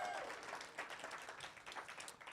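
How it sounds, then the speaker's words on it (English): Audience applause for a group of musicians at a Seattle book-club stage show, a dense wash of many hands clapping at steady loudness for a couple of seconds with no voices over it. "Can we give them a round of applause?"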